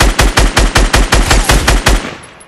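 Rifle fire from the video game Fortnite: a rapid automatic burst of about ten evenly spaced, loud, close shots, then a short fading tail.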